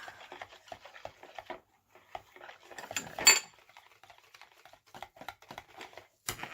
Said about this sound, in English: Mix this all up really good.